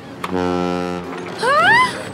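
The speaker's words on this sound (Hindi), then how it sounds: "हॉर्न, ये अपनी बोट का हॉर्न है।" A deep, sustained boat horn blast sounds loudly, followed by a higher, rising whistle-like tone.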